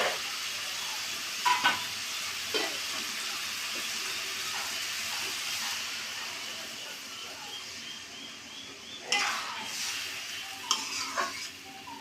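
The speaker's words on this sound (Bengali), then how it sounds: "এবার দিয়ে দেবো পরিমাণ মতো জল" Water poured into a pan of bottle gourd and mung dal on a gas stove, a steady hiss and splash under gentle sizzling, with a few clinks of a spoon stirring against the pan; a voice talks faintly in places.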